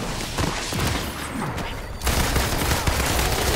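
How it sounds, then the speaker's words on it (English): Rapid bursts of gunfire in the Avengers video game during an Iron Man space mission, dense and loud throughout and growing heavier in the second half, with no talk. "You can shoot things. I can shoot things as well. Like this"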